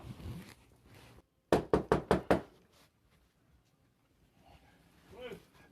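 Police knocking on a house door: five sharp, evenly spaced raps in quick succession, loud and close, with voices speaking before and after.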